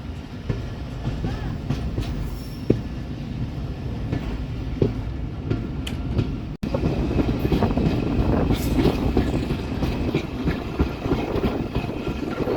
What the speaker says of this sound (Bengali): সুন্দর একটা কার্ভ নিতেছে আমাদের ট্রেন।